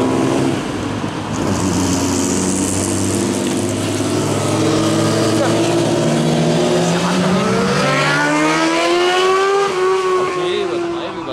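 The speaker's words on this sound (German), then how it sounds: "Oh, da ist der BMW wieder." A BMW passes close and loud with an engine roar that rises and revs up as it goes by, at a car meet where supercars are leaving. Other engine noise sits underneath.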